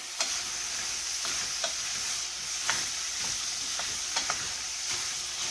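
Zucchini sizzling steadily in a pan, with a constant close hiss broken by light scrapes and taps as it is stirred every second or so, no voices over it.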